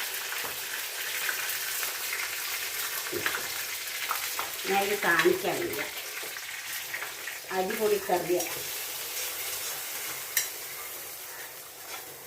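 Mustard seed tempering sizzles in hot oil and is poured into a prawn curry, a continuous crackling fry heard close throughout while a person talks intermittently over it.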